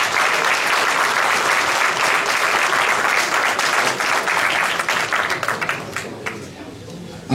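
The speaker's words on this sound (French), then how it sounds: "je vous demande de les applaudir encore une fois" An audience breaks into loud, sustained applause at a New Year's greetings event. The dense clapping holds strong, then thins and fades away toward the end.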